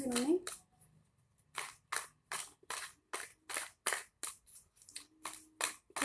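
Tarot cards are shuffled by hand in a rapid series of crisp riffling bursts, about a dozen in quick rhythm, close and clear after a brief voice at the start.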